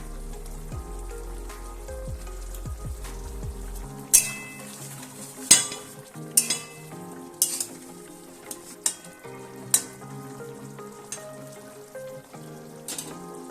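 Cauliflower roast curry in a pan bubbles and sizzles softly, with quiet frying crackle, scattered pops and occasional louder stirring clinks, and no talking.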